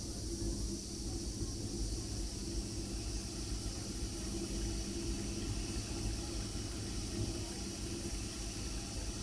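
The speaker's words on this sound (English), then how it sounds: "you can also hear the difference when the water is drawn into the boiler" Water is drawn into a simulated Disneyland Railroad locomotive boiler through the injector, giving a steady rushing, pump-like hiss over a constant low rumble, unchanging and close.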